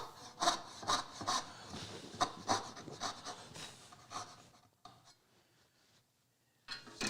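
A dovetail saw cuts wood by hand, a run of close rhythmic rasping strokes that slow and fade into near silence before one more brief stroke at the end.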